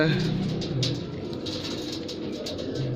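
Pure Mirab pigeons coo in low, resonant bursts near the start and again at the end, under a steady hum of background noise, with a voice talking over them.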